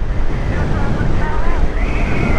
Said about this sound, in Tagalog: Napakalakas na hangin.